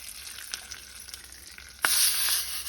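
Light frying crackles of a tempering with curry leaves and garlic, with a few clinks, then a sudden loud sizzle bursts up and hisses strongly as hot oil hits tomato chutney.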